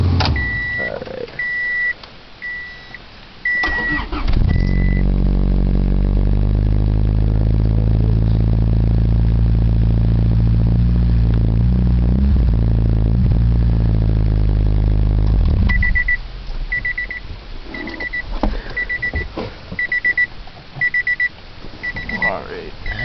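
A 1973 International 392 big block idles after a cold start, giving a loud, steady, deep rumble for about eleven seconds, with a repeating electronic chime beeping before the engine starts and after it stops.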